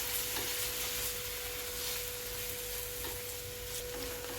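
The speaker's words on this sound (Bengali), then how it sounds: "এবারে আমি ভালো করে কষিয়ে নিচ্ছি" Chicken bharta masala being stir-fried in a pan, with a steady sizzle and scraping stirs running through at an even level, no voices.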